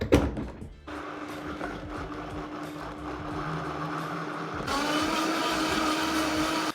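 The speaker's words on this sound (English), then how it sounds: "So first of all let's blend the lentils" Blender whirring steadily as it purées cooked lentils for savory pancake batter, a continuous loud motor drone that rises in pitch and intensity near the end before cutting off.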